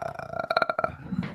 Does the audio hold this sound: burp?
yes